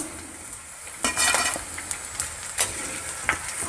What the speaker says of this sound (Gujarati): એકદમ ધીમા ગેસ ઉપર સરસ રીતે ગુંદરને ફ્રાય કરી લેવાનો છે